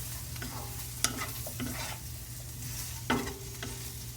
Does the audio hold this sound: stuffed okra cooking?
yes